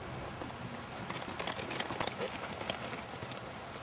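A horse's hooves clip-clop on ground as it stops and backs up, a run of uneven close footfalls growing louder mid-way, with someone talking over them.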